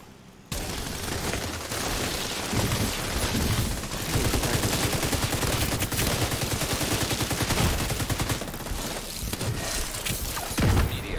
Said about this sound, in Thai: ได้ยินเสียงยิงอะไร